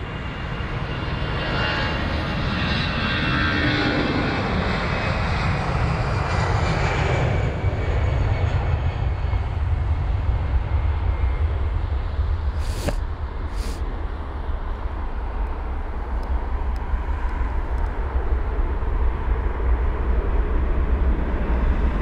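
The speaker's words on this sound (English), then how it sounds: "Into the distance goes that Finnair 320." A Finnair Airbus A320 takes off from London Heathrow, its jet engine roar loud at first and then fading steadily into a distant rumble as the aircraft climbs away, with no voices.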